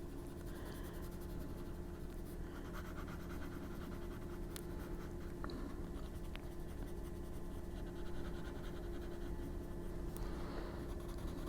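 Colored pencil scratches steadily across a paper mandala coloring page in close, continuous strokes, a soft dry scraping with a few sharper ticks.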